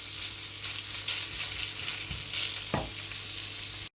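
Beetroot and cabbage sautéing in a pan for borscht, a steady loud sizzle and crackle throughout with a couple of brief stirring knocks near the end.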